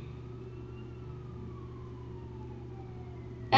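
An ambulance siren wails continuously as it passes, its tone sliding gradually downward over a low engine rumble, followed by a sudden loud noise at the very end.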